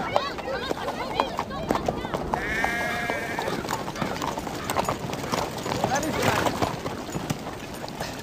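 Horses' hooves clip-clop steadily near a village blacksmith's, mixed with sheep bleats and a brief whinny, while people talk over the busy livestock scene.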